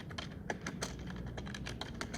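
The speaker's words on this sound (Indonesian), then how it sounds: "Sekarang kalian bisa mengetik" Steady typing on a computer keyboard, a continuous run of close, crisp key clicks with faint room noise and no voices.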